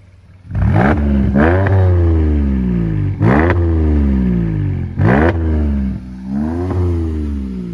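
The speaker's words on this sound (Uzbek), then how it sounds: "bitta bosingchi qani gazni" A Mercedes car engine revs hard in repeated bursts, each throttle blip rising in pitch and then falling away, loud and close with a steady idle rumble underneath and no talking.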